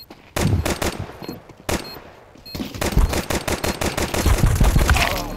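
Rapid bursts of automatic gunfire and single shots in the Counter-Strike 2 video game, loud and close, with a brief lull and then sustained rattling fire.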